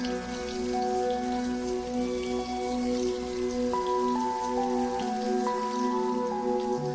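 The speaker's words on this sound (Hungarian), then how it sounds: "és zuhog az eső" Steady rain pours down in a monastery garden, an even, dense hiss of falling drops with a sustained musical tone running underneath, constant throughout and free of speech.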